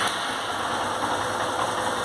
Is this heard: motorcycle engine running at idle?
yes